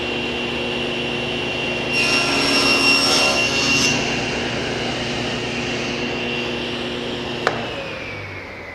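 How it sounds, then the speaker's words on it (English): A SawStop table saw cuts across a wooden board at the six-inch mark, a loud steady whine that swells for a couple of seconds mid-cut over the running motor hum, then a sharp click near the end. "Next, I'm going to make a cross cut at my 6-inch mark."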